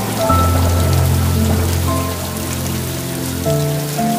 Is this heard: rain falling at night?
yes